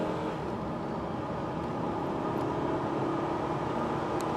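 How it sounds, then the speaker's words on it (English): A 2000 SAAB 9-5 in sports mode accelerates on an open road, its engine drone and road roar holding steady and broad inside the cabin, with no talk. "Put the car in sports mode"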